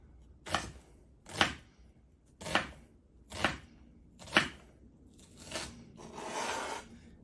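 A knife slices through an onion on a cutting board in a home kitchen, giving seven crisp, evenly spaced chops close up, the last few softer and more smeared, with no talking.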